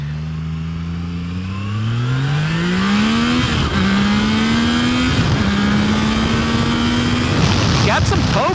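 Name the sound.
Triumph Tiger Sport 660 triple-cylinder engine revving with throttle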